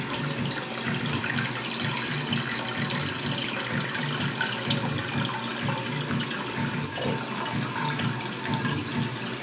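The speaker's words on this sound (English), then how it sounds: "start filling it up now" Water rushes steadily into a toilet tank after a leak repair, a constant close gushing hiss with a faint pulsing undertone, unbroken for the whole stretch.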